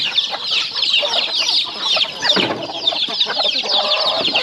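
Several chickens cluck and chatter close by, with overlapping busy calls and no talking.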